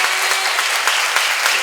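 A congregation at a church seminar breaks into brisk, close applause, a dense and loud patter of many hands that keeps an even level throughout the short burst.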